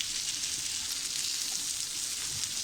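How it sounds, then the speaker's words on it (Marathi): Saundale fish fry in a pan with a steady, dense hiss of sizzling oil, close and constant throughout. "आणि असाच आपल्याला दुसऱ्या बाजूने सुद्धा हे मासे असे तळून घ्यायचे आहेत, खरपूस असे भाजून घ्यायचे आहेत."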